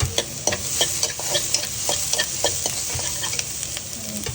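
Onion and chili sizzle steadily in a hot pan while a spoon stirs with light scraping taps, close and continuous.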